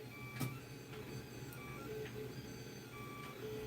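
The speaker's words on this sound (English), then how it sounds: "I'm just kind of checking out the printer." A 3D printer lays down plastic with a steady mechanical hum and whir, dotted with thin, high electronic tones from the motors. The sound is continuous and moderately close, with no talk.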